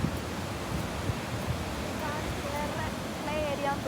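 A stream flows in a steady broadband wash, moderately faint and outdoors, with distant birds chirping toward the end.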